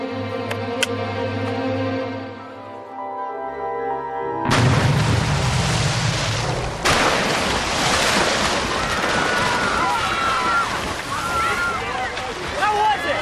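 A big water splash erupts as a roaring, crashing surge of water after a sustained tone, then churns and sprays loudly for several seconds, with voices shouting over it.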